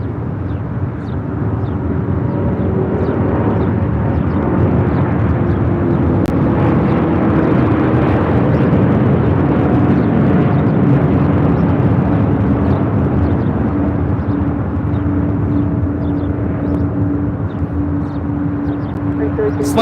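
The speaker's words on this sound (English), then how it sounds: "Flight 603 taking off to Santiago on a 787-8 Dreamliner." A LATAM Boeing 787-8 Dreamliner in Juegos Santiago 2023 livery takes off at LAX bound for Santiago, a steady loud broadband jet roar with a low rumble holding throughout, with faint talk beneath.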